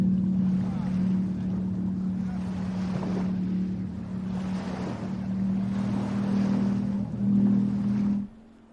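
Offshore superboats race on Lake Macquarie, powered by 450-horsepower four-stroke Mercury outboards. Their engines make a steady, droning roar that rises and falls, with wind buffeting the microphone throughout.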